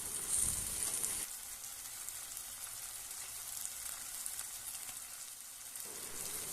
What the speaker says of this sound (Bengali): এবার এর মধ্যে আদা রসুন পেস্টটা আমি দিয়ে